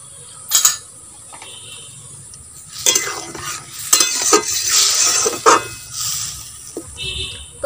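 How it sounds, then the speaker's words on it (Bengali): Spice paste for a fish and brinjal curry, with turmeric, fries in a pan, giving intermittent loud sizzling bursts and scraping stirs of a spoon against the metal, with quieter gaps between. "মশলাটা ফুটে উঠবে,"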